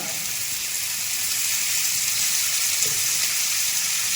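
Shrimp frying in coconut oil in a pan give a steady, close hiss with a soft bubbling texture. The sizzle runs evenly the whole time with no speech over it.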